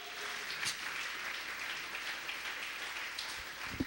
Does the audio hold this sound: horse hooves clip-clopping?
no